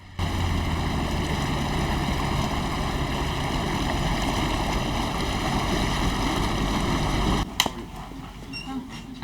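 Waves washing into storm-damaged, abandoned homes: a steady loud rush of water and wind that runs unbroken for most of the stretch, then briefly splashes and settles.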